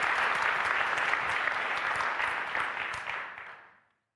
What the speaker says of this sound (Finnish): Vielä aplodit Tonille ja Nihakille.